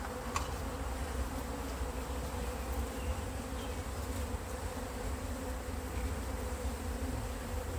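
Honey bees buzzing steadily during a hive inspection of a tall, skyscraper-style beehive box, a dense, continuous hum close by with no voices.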